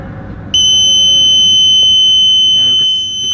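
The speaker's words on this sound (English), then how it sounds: "And you could see the buzzer is ringing." The buzzer of a homemade electronic water level indicator suddenly starts and holds one loud, piercing high-pitched tone without a break.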